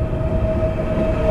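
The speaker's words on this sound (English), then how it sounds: "So our train just coming here" A passenger train from Samarkand arrives in Bukhara, Uzbekistan, with a loud, close, continuous rumble of wheels on rail and a sustained steady tone running through it.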